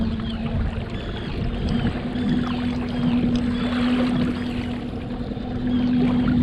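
Homemade boat driven by an electric motor moves across water, with a steady motor whine running throughout over continuous splashing and churning water, fairly close and gradually building in intensity.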